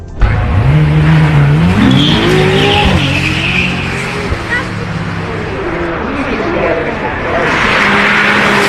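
A Ferrari supercar engine roars and revs outside, rising and falling in pitch with a rough exhaust note and some tire noise, loud and close.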